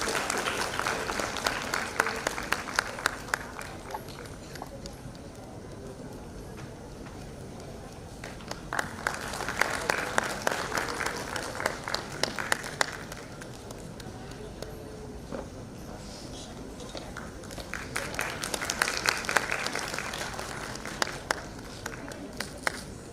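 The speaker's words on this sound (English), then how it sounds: "Round of applause" Audience at an international conference on inclusivity breaks into a round of applause, clapping swelling in three waves with quieter gaps between, moderately distant in a large hall.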